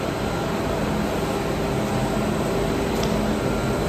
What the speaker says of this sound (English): So this is the feeding conveyor and the main drum made of stainless steel